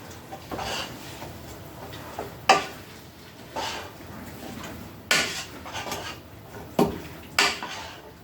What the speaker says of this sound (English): I'm going to add my other beans and dump them in there.